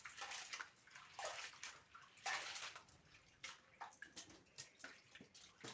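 Water sloshes and splashes in bursts as moong dal is rinsed and swished around in a container, with irregular pauses between scoops.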